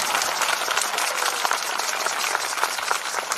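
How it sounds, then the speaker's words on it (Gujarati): Sustained applause from an audience for Mek Dada after a devotional bhajan performance, a dense, even wash of many hands clapping close by without pause. "તો મેક દાદા માટે જોરદાર તાળીઓ થઈ જાય"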